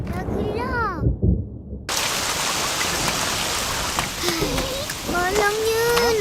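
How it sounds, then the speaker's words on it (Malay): Steady, dense rain pours down close by after a short silent gap, with animated cartoon voices talking over the downpour; no distinct thunderclap stands out. "Sekarang pula basah kena hujan."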